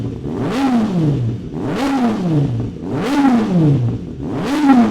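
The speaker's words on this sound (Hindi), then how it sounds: "DB कलर जब उतार देते हैं ना, तो भाई साहब जो आवाज़ होती है ना, बहुत ही प्यारी है SC1R की" Motorcycle fitted with an SC1R exhaust, dB killer removed, revved four times in a steady rhythm, each rev rising sharply then dropping back to a rumbling idle, loud and close with no talk.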